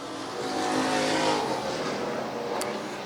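IMCA stock cars racing around a dirt track at USA Raceway during a main event, a steady, loud engine roar that swells and fades slightly as the field circles, with no voices heard.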